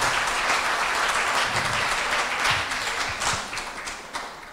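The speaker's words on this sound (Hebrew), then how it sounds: "מגיע להם בהחלט מחיאות כפיים" An audience claps at a Jewish National Fund educational talk, a full, steady burst of applause close by that gradually tapers off toward the end.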